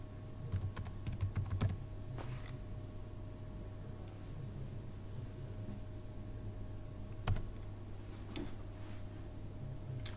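Keys clatter on a computer keyboard in a quiet room: a quick burst of typing at the start, then a few isolated taps spaced apart later, soft and near.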